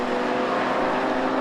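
GT Cup Ferrari race cars at Oulton Park circuit, a dense, loud engine roar from a pack of cars holding steady throughout, with no voices.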